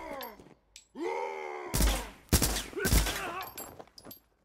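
Uzi 9mm automatic weapon in the video game RICO fires in loud rapid bursts, clustered cracks separated by short gaps, mixed with groaning enemy voices and game effects.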